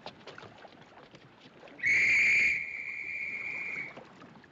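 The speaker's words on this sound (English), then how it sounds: "That's an officer's whistle." An officer's whistle aboard the sinking Titanic gives one sharp blast, loud and piercing, then fades into a thinner lingering tone over faint background murmur.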